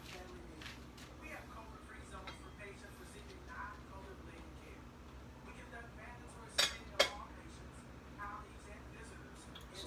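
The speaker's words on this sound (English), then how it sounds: "Let me get a spoon" A spoon is pulled from among dishes, giving two quick, bright metallic clinks close by, against a kitchen background with people talking.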